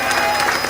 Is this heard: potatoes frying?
no